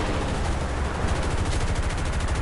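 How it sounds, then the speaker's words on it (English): Dense, continuous machine gun fire from B-29 bomber gunners in War Thunder hammers on without pause, a loud rapid rattle filling the whole stretch. "Gunners versus gunners."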